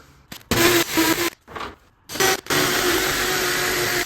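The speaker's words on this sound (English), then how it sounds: "got all the holes drilled as you saw" A power drill bores holes into a kitchen wall for drywall anchors ahead of mounting butcher block shelves, with several short loud bursts and pauses before one longer, steady run.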